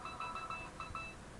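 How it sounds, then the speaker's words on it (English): A phone gives off a rapid series of short electronic beeps, repeating several times in a steady pulse for about a second, clear and fairly close with no talking. "Sorry, that was my phone again."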